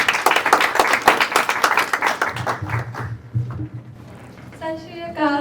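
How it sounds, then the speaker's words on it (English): Small declamation contest audience applauding a participant: a few seconds of brisk, close clapping that thins out and gives way to voices, then a brief tonal sound near the end. "Please give a big round of applause and louder."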